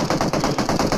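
Rapid bursts of automatic gunfire from the mobile battle-royale game PUBG Mobile, loud and close, firing in a steady rhythmic stream of shots.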